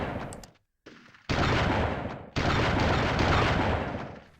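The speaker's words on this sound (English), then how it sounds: "Time to get the shotgun a few kills." Shotgun fire in the video game Army Men: Sarge's Heroes: a short blast, then two loud, long, harsh bursts of gunfire with brief silences between them.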